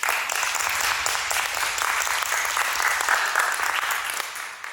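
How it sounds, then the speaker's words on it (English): A room at a school district board meeting applauds retiring staff, a steady wash of many hands clapping at even volume for a few seconds without speech. "So please give them a round of applause."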